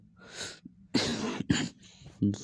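Several harsh, breathy coughs burst out close by in quick succession, mixed with throat-clearing sounds.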